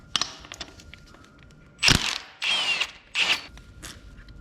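A ratchet works a reverse-thread pulley bolt on a 3.6 VR6 engine accessory bracket, making three short bursts of rapid clicking close to the microphone, separated by quieter handling noises.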